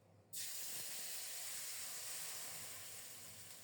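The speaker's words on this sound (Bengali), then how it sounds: "একটা তেজপাতা ছিঁড়ে দিলাম ফোড়নটাকে লাল লাল করে ভেজে নেব" Whole cumin and a torn bay leaf hit hot oil as tempering for a cabbage ghonto, bursting into a sudden loud sizzling hiss that holds steady and fades slightly, with no talking.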